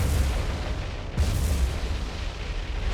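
Bomb explosions in the naval war game War on the Sea, a continuous heavy rumbling roar with a deeper boom surging just past a second in, loud and dense, with no voices.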